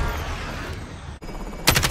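Video-game gunfire breaks out near the end as a rapid, loud burst of repeated shots, following a stretch of busy game noise.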